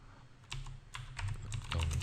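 Someone types on a computer keyboard in quick, uneven bursts of close, soft key clicks, with no one speaking.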